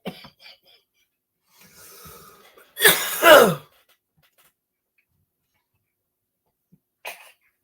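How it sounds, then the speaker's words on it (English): One harsh, forceful cough in two bursts, close by, preceded by faint breathing sounds and followed by a short sharp noise. "I'm making myself cough now."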